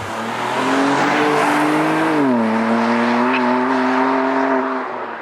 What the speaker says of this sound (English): how can you actually fix this problem if you don't like the exhaust sound of an S55?